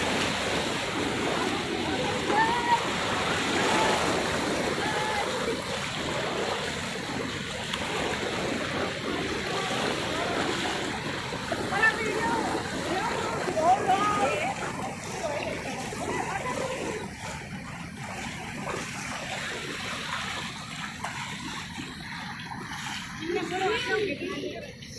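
River water flows broadly during a hand-in-hand crossing of a swollen river, a steady rushing wash heard under people talking that eases slightly near the end.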